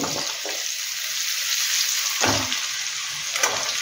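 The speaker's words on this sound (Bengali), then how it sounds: "পেঁয়াজটা একটু ভেজে নিতে হবে" Onion frying in a pan after garlic and green chilli, a loud continuous close sizzle with a few brief stirring bursts, no talk.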